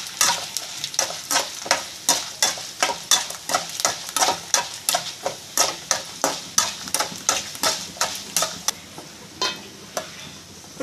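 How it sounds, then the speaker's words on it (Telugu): Cumin, coriander seeds and urad dal fry in a pan for onion and tomato pachadi, stirred with a spoon: a continuous sizzle with rhythmic scraping strokes repeating about twice a second, close and fairly loud. "వేసేస్తున్నాం జీలకర్ర, ధనియాలు, మినపప్పు ఈ 3 కూడా వేసుకొని బాగా ఫ్రై చేసేసుకోవాలి"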